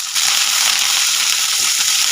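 Loud, continuous crackling and hissing of curry leaves hitting hot oil, a dense sizzle that starts suddenly and holds steady.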